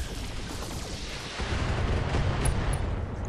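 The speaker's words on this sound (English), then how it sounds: "Firing. All weapons." All weapons of a BattleTech mech firing together, a heavy rumbling barrage of booms that swells halfway through and keeps rolling to the end, with no voices.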